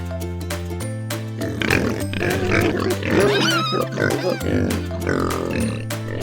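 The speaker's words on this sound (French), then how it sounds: "Comment fait un cochon?" Pig oinking and grunting on a farm, several rough grunts in a row over a steady backing music bed, fairly loud and close.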